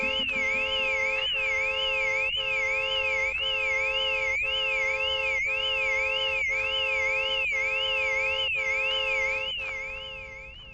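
Car alarm blaring in Car Dealer Simulator game: a loud, continuous electronic siren with a rapidly warbling tone and steady pulsing beeps, unbroken for the full span and fading slightly at the end.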